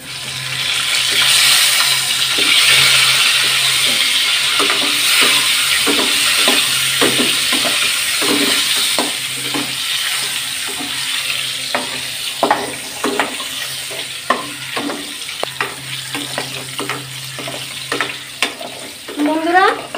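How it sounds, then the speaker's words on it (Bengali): Eggs sizzle and spit in a hot pan of oil for egg curry, a constant frying hiss dotted with frequent sharp pops and crackles that grow sparser and more scattered toward the end, with no one speaking. "বেশি ভাজবো না, হালকা করে ভেজে নেব।"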